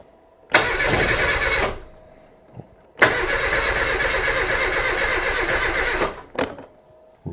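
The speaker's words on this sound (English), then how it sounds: "Will it fire up? Let's see, bit of choke." A Reliant Robin MK2, pulled out after ten years and given choke, cranks and fires in two loud bursts, a short one then a longer one of about three seconds, with a brief blip at the end and no talk.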